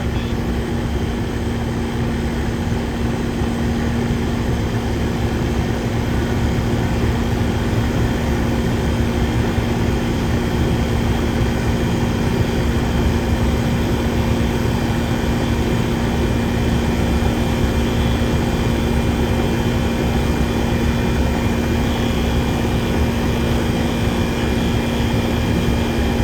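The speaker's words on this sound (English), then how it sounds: "That is a Copeland CRK 3 series compressor." A Copeland CRK 3 series compressor runs steadily on a 1995 Weather King unit, a continuous loud mechanical drone with a strong low hum that holds even throughout, heard alone with no talk.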